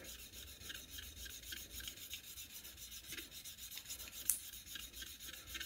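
The back of a severely rusted bench chisel is ground on a cheap 1000-grit disc, giving a faint, steady, rhythmic rasping scrape throughout.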